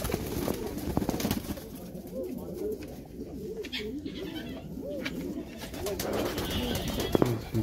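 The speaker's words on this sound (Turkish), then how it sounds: "Evet, hünkârı kuşlarımız." Hünkari pigeons coo in a repeated, rolling rhythm, several birds close by at moderate loudness, with faint background noise throughout.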